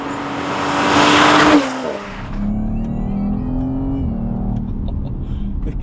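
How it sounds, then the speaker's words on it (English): A Sonoma Green Audi RS5 Sportback accelerates hard, its engine note rising loudly then dropping sharply at a fast gear change before pulling again through a steady, strong drone with no voices. "The gear changes are so quick, aren't they?"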